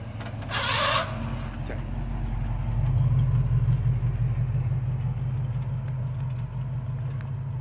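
A 1969 Chevrolet Camaro Z28 engine rumbling deep and steady, swelling louder midway as if revving for a burnout, with a brief hissing burst early on.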